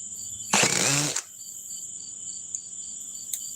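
A drill runs briefly at its speed 14 setting, a loud buzzing whine lasting under a second before cutting off, followed by a steady high insect-like chirping drone in a quiet room.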